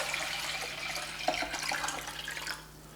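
Water poured from a kettle or jug into a container while making coffee, a steady splashing trickle lasting a few seconds and then tapering off, close and fairly quiet.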